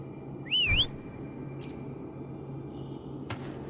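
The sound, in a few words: character whistling in video game Wuthering Waves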